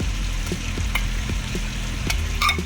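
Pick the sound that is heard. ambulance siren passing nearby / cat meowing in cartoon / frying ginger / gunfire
frying ginger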